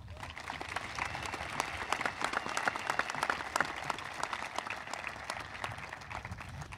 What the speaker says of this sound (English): Can we please have a round of applause for all those people?